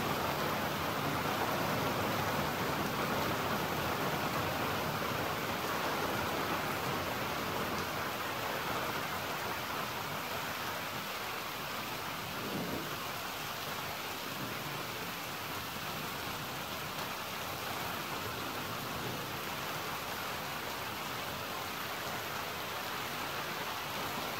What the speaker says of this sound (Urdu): رات 1:15 بجے کراچی میں ہونے والی بارش کا منظر۔